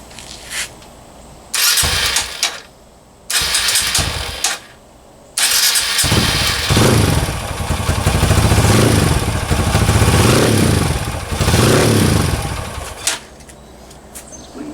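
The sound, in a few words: Kawasaki KLX 140 motorcycle engine warming up, first heat cycle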